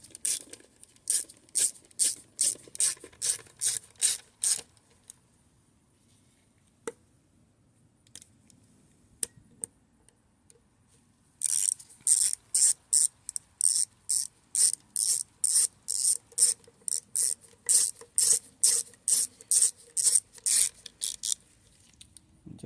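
A hand ratchet snugs the bolts on a Honda Accord ABS modulator, with rapid runs of sharp metallic clicks in two bursts separated by a quiet pause, heard close with no talking.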